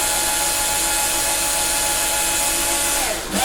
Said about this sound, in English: My Bosch Ixo winder, my trusty tool here.